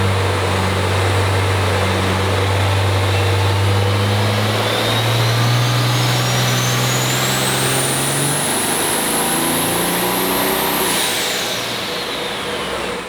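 A loud 2019 Ram truck engine roars steadily under heavy load on a dynamometer, its pitch climbing slowly with a rising turbo whine, then easing off at the end.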